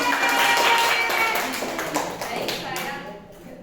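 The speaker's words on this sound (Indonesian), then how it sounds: "Tepuk tangan dulu untuk Mbak Santi" Classmates in a micro-teaching classroom session clap for a fellow student about to present, a lively close round of applause that gradually thins out, with voices talking faintly underneath.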